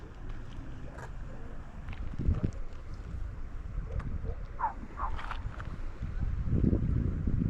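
Wind gusts rumble across the microphone in an uneven, buffeting roar, building louder toward the end, with faint water and boat sounds underneath, while spin fishing on the Bystrytsia River.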